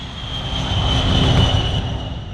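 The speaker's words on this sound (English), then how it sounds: "the massive engines of the B-52 roar to life" A B-52 bomber's eight jet engines roar to life for taxiing to the runway, a loud, steady broad rumble with a high whine that swells slightly and holds throughout, with no voices.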